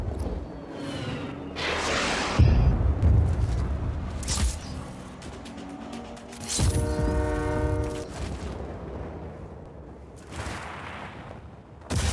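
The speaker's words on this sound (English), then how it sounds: "That's a train." A train in the Just Cause 4 video game rolls along its tracks, sounding its horn in several loud, sustained blasts over a rumbling roar, with clattering bursts between them.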